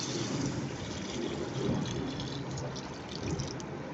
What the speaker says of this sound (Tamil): இப்போ நம்ம கரைச்சி வச்சுருக்கிற அந்த புளி கரைசலை எடுத்து சேர்த்துக்கலாம்